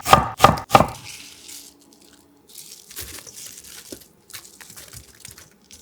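A knife julienning sweet pear on a cutting board: three sharp, close chops in quick succession, then softer scattered taps and faint board noise as the slices are gathered.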